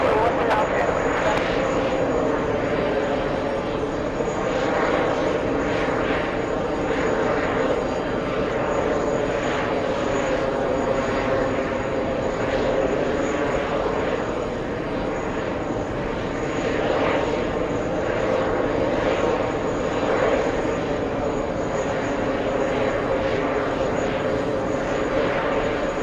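Airliner engines roar continuously at JFK airport, a steady loud drone that holds for the whole stretch without letting up.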